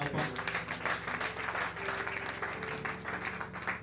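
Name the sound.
congregation applauding in church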